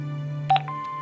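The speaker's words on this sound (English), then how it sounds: "Hobbs's answer phone, and he's got messages." Answering-machine buttons pressed in the Broken Sword 5 adventure game: a short electronic beep and click over a steady low hum, followed by a sustained tone as playback starts.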